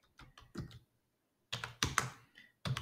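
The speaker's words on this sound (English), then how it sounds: "So on our terminal, we can type MySQL check" A computer keyboard typed on at a terminal to enter a MySQL check command: short bursts of close, crisp key clicks, a pause, then a denser run of loud keystrokes.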